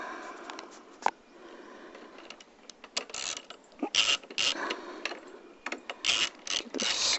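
A socket wrench ratchets a screw on a Buccaneer motorcycle air filter in a garage, with short bursts of clicking that grow denser toward the end, close and fairly quiet.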